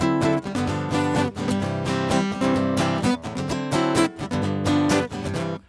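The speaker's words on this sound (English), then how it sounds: "If you're familiar with Hawaiian music, the vamp sort of sounds like this." Hawaiian music plays a steady strummed vamp with a bouncy repeating rhythm, full and continuous with no voices.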